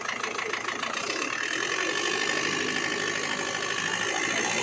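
An Isuzu 4JA1 diesel engine with heavy blow-by and knocking, overheated with damaged piston rings, runs and revs with a rough, rattly mechanical clatter and steady droning hum, close and loud without talk.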